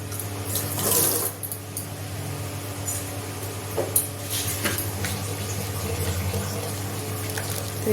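Water pours into a cooking pot of fried spices with a soft, steady splashing trickle that is strongest near the start, over a low background hum.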